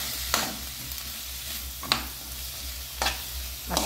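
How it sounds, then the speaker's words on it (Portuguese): Garlic and seasoning fry in a pan, giving a steady close sizzle broken by a few sharp scraping stirs of a utensil at irregular intervals. "E agora vamos dar uma fritada nesse tempero aqui."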